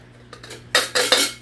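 A metal cooking pot and utensils handled up close, with light clinks at first and then three loud, sharp metallic clatters and scrapes, all in a kitchen with no voices.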